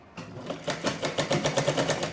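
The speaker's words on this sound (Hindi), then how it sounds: "इस तरह से ऐसे सिलाई लगा लूँगी मैं पूरा एकदम अच्छे से" A sewing machine stitches a blouse sleeve in a steady, rapid mechanical rattle that builds up and then runs continuously at close range, with no voices.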